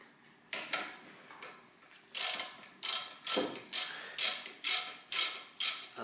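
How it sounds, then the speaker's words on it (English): A ratchet with a 14 mm socket tightening the brake caliper bolts on a Toyota Corolla gives a close, crisp series of clicking bursts, a few scattered pulls followed by a steady run of about eight regular strokes. "There is my 14 mm socket, and I tighten these bolts all very carefully"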